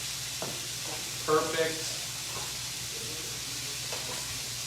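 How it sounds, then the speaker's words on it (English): Parsley being stirred into risotto in a pan, soft steady sizzling and scraping under a brief spoken word. "I'm going to take this risotto and add a touch of the parsley to that and sort of stir it in."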